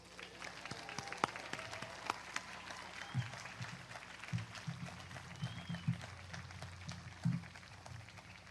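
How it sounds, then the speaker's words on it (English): A commencement ceremony audience applauds the degree candidates with soft, distant, scattered clapping, faint and uneven, and occasional voices underneath. "Audience, please join me in applauding all of these candidates for their"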